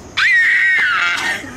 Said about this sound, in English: I gotta be ready to scream.